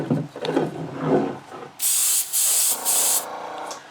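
An airbrush lays a thin mist coat of paint across a model body, a steady close hiss in several short bursts with brief gaps, after some handling noise at the start.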